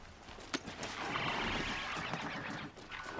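Horse hooves walking in the video game Horizon Zero Dawn, a steady clip-clop of footfalls blended into a dense, continuous game soundscape at moderate level.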